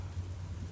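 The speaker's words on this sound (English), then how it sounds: "I hear thunder. Pitter-patter." Rain and thunder in the video game Furi: a steady hiss of rainfall over a low, continuous rumble, quiet and unbroken for a brief moment.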